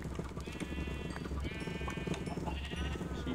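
Sheep bleating in the Minecraft RLCraft modpack, several wavering bleats overlapping across the clip above a steady low game hum, fairly close and moderately loud, with no talking.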